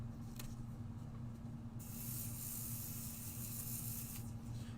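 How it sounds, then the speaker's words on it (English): Aerosol can of pixie spray, a sudden steady hiss starting partway through that holds for a couple of seconds, fairly close and alone over a quiet room background. "I'm going to use some pixie spray because I want to make sure that this stays down really well"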